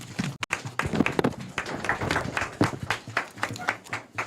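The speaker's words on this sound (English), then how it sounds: "can we give him one more applause?" Applause from an audience in a parliamentary chamber for a speaker during a mid-year budget review debate, uneven clapping with distinct individual hand claps over a murmuring crowd and some voices.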